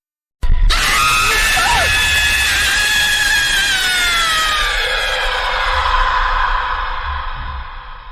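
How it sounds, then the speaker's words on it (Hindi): A woman's long, piercing scream from a horror story, starting suddenly, sustained loud for several seconds, then wavering and fading out alone. "उसकी चीख इतनी भयानक थी"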